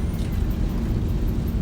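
Thrust reversers engaging on a landing airliner in the X-Plane 11 flight simulator: a steady, loud low-frequency engine roar that holds constant throughout, with no talk.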